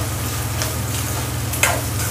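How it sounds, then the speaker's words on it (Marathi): Onion with a little salt sautés in a pan for a dry chicken dish. A continuous sizzle plays with a few stirring scrapes, over a low steady hum. "तर अशा प्रकारे मी चांगला हा कांदा परतून घेते।"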